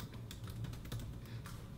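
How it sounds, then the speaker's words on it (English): Quick clicking of keys on a computer keyboard, a brief close burst of irregular taps with faint background hum, no voices. "then go here, type Betaflight"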